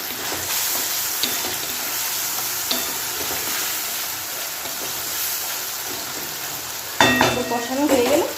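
Pointed gourd and potato pieces frying with a paste of cumin powder, chilli powder and ground poppy seed, giving a steady close hiss and sizzle with faint clinks, then a louder burst of bubbling and scraping near the end.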